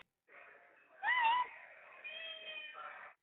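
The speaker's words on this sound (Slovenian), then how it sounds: "Slišala sem mačko." A cat meows in a quiet space: a drawn-out plaintive meow, then a louder rising cry and a long wavering call, fairly faint and alone.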